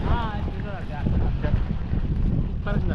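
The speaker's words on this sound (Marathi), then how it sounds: "एक वेळेला वारा पण सुटला आहे" Wind gusts on a rainy hillside buffet the microphone as a steady, rumbling roar throughout. People talk over it nearby.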